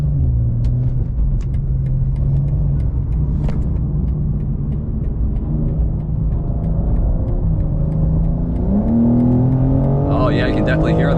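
A 2025 BMW M2 with M Steptronic automatic accelerates onto a freeway, heard from inside the cabin. A steady low engine rumble swells into a rising, strained note toward the end, with a voice faintly present.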